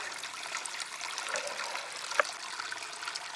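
Water trickles and pours steadily out of a pump cavity being filled during priming of a pump system, a continuous close stream with one brief sharp knock near the end.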